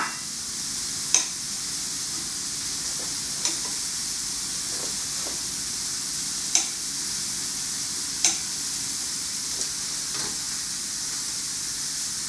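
A buttered bun toasts on a hot grill with a soft, continuous sizzle, broken by a few sharp clicks and taps spaced several seconds apart.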